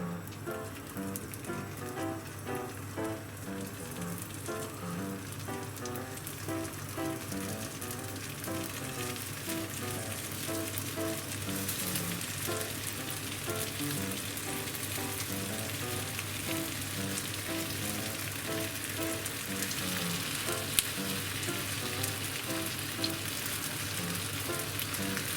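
Fried tofu pouches sizzle steadily in salad or rice oil over a medium-low flame, a dense, even crackle that holds close and constant throughout with no voices.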